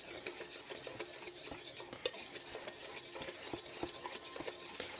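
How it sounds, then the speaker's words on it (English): Ingredients being mixed in a bowl while preparing fish and chips batter, a steady scraping stir with soft clinks of utensil against the bowl and one sharper knock, fairly close and alone with no talking. "So I'll just mix this up."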